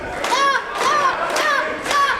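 Wrestling crowd at a GCW heavyweight championship match, chanting in four rhythmic bursts with loud voices and claps rising and falling, close and lively.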